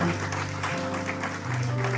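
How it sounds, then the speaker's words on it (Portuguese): Church congregation clapping for the Lord during a Portuguese-language sermon, brisk applause over sustained organ or keyboard notes, moderately loud and continuous for a couple of seconds. "Aplauso forte para o Senhor."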